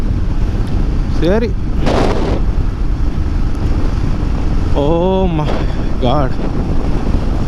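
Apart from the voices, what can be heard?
strong wind blowing into the microphone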